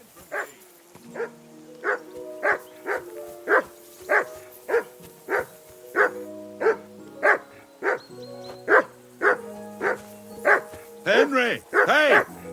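A dog in Kingdom Come: Deliverance II barks repeatedly in a steady, insistent rhythm, close and loud, turning into yelps and whimpers near the end.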